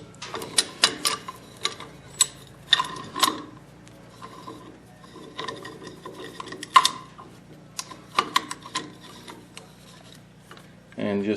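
A clamp is cranked to push back the front brake caliper pistons on a 2013 Ford E450, with irregular metallic clicks and ratcheting taps in short bursts, close and fairly quiet.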